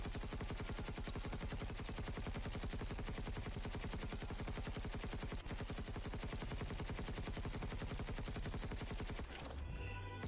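Rapid, continuous automatic weapon fire in the Space Engineers 2 video game hammers nonstop at a fast, even rate for about nine seconds, then cuts off abruptly.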